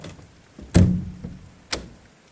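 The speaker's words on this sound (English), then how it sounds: "gone down to the basement, and opened the door." A basement door swings open with a heavy thunk and a creaking rumble, followed a second later by another sharp knock-like bang, close and alone in a quiet room.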